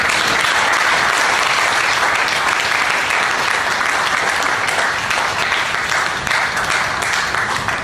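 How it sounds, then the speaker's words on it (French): A church congregation at the Metanoia assembly in Strasbourg claps loudly and continuously in sustained applause with a few cheers, a dense, even wash of hands from a large crowd nearby. "Est-ce que tu peux acclamer le Seigneur?"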